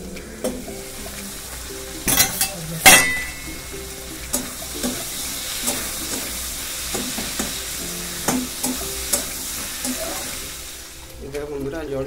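Water poured into a hot pan of vegetables, a loud hissing rush followed by steady sizzling and bubbling with repeated spoon knocks and scrapes, a voice talking at moments.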